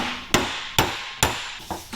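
A hammer and dolly tap down high spots on a metal panel that was pulled with a stud welder. Four sharp, close metallic strikes land about half a second apart, each ringing briefly, with no talk.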